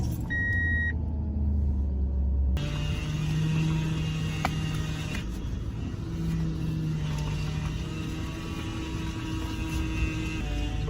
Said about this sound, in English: when you hear that whining sound, that means you have a bad power steering pump